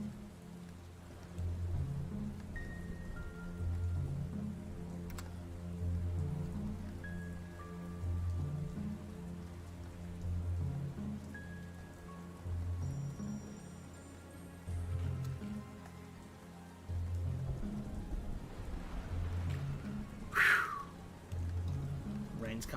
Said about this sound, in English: Rain's coming down.